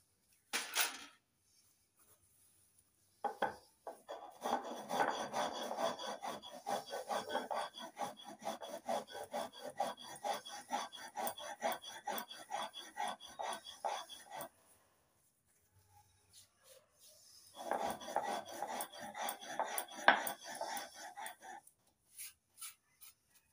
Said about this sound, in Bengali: এবার 1/2 চামচ লবণ বেটে নেব।